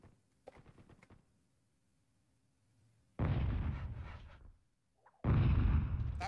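Gunfire in the PS1 war game Frontschweine: two loud bursts of shots, each running about a second, after a quieter stretch of sharp clicks and game effects.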